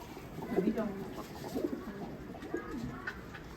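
Desi pigeons kept on a rooftop coo in soft, repeated low phrases at close range, the calls overlapping in a gentle murmur with faint background noise.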